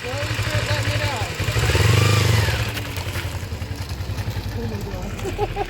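A 1986 Kawasaki Ninja 250R motorcycle pulls away, its small engine revving up loudly then settling into a steady idle-like putter nearby, with people talking over it.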